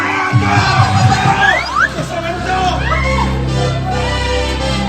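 A crowd at a French game show cheers, yells and whoops for the two finalists, a loud continuous roar with shouting voices.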